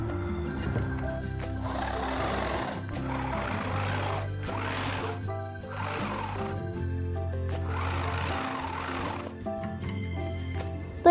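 A sewing machine stitches a waist belt onto a double umbrella cut lehenga, running in several steady whirring bursts separated by short pauses, close and moderately loud.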